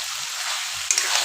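Chicken pieces dropped into a thick, oil-separated masala gravy give off a steady, close sizzle, with a brief louder splutter partway through.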